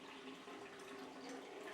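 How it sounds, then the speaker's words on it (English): Water pours from a hole in a cup, a soft steady trickle and splash that runs continuously and quietly for a couple of seconds. "There's our water coming out of our cup"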